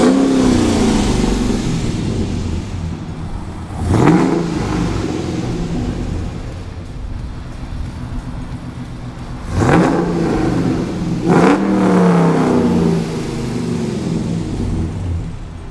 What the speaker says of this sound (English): Then I did a performance exhaust system. So it probably sounds really good